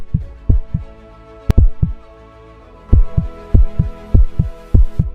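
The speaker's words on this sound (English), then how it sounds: "it's almost like I could hear the heartbeat of this old guy coming back to life" Heartbeat sound effect of deep, booming lub-dub thumps in a steady rhythm, a few beats then a brief pause, then a louder run of regular beats with no other sound.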